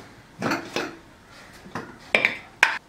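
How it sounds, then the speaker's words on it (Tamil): Metal lid of a pressure cooker being handled and opened, with a few sharp clanks and clinks spaced out over a couple of seconds, close and fairly quiet. "நம்ம குக்கர் மூடி திறந்துக்கலாம்."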